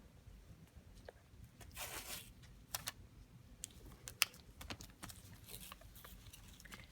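Crinkly handling noises and a few sharp tearing rips of medical tape during a wound dressing change, close and fairly quiet against a soft background hum.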